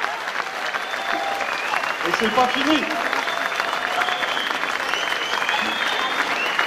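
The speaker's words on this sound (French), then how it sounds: "vous pouvez l'applaudir" A crowd at an evening awards gala applauds continuously, a loud, sustained wash of clapping with scattered cheers, while a voice briefly speaks over it.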